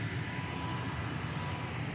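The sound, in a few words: aircraft engine of plane taxiing at airport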